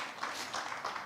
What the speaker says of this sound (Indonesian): Tepuk tangan bagi Tuhan.